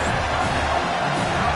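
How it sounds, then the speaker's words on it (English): Stadium crowd at a college football game between Arizona State and South Carolina, a dense, steady roar of many voices building on a third down, loud and continuous. "Decibels rising as the crowd gets behind this defense on 3rd down."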